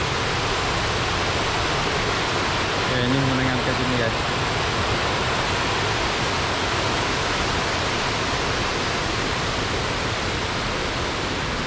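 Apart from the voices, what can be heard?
waterfall near Batu Lintang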